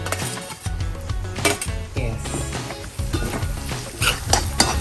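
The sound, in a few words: tomatoes and green chillies sautéing in a pan for prawn curry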